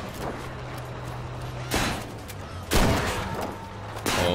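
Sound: gunfire from a squad mate in video game Battlefield 5

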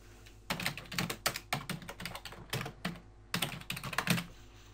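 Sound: typing on a computer keyboard

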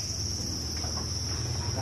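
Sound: crickets chirping at a cricket farm

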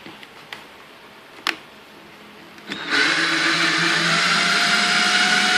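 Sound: cordless drill driving a mill platform

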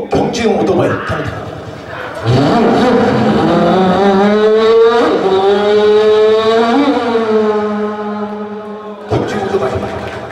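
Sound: voice imitating a racing motorcycle

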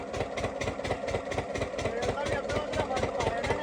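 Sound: farm water pump engine revving on its own

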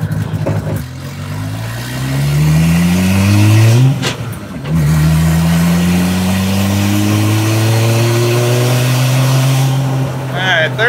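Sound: 2JZ-swapped Dodge Charger driving and accelerating

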